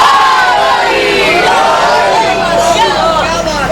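A large crowd at a Muharram religious gathering chants slogans in unison, loud and continuous with overlapping raised voices and babble throughout.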